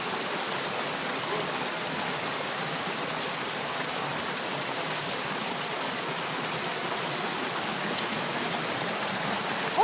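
A waterfall at Little Baguio, a constant hissing rush of falling water that stays loud and unbroken throughout, with no voices heard.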